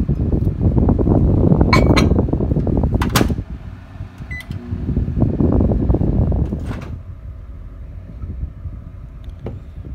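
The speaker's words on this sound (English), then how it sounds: "I like to use a chopstick or a stir stick to mix up the plastic" A chopstick or stir stick works through melted soft plastic for fishing lures, giving a steady, close scraping and clicking texture with a few sharper taps. The sound swells and eases over about ten seconds, with no voices.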